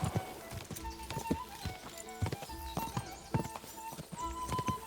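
A horse gallops in the video game Kingdom Come Deliverance 2, steady rhythmic hoofbeats clopping close and clear, with no talking.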